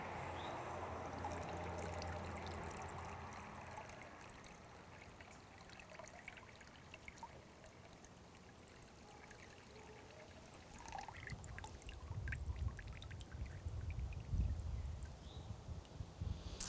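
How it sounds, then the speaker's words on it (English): Water poured from a glass into a cup of Akadama clay bonsai soil, with a soft steady trickle and stream that swells louder near the end, close by, with no talking. "Let's see how much water this Akadama absorbs, and let's see what the drainage rate is like."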